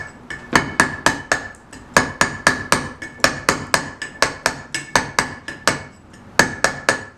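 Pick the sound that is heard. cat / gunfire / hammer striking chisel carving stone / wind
hammer striking chisel carving stone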